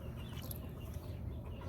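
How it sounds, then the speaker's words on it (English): A Jersey Giant chicken on a poultry farm clucks in low, short bursts close by, steady and continuous over a faint barnyard hum. "Chicken's been up since early."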